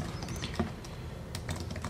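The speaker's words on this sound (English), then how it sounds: "I am using the keyboard" Faint, sparse key taps on an Apple wireless keyboard paired to a Nexus 7 tablet sit beneath a steady background hiss.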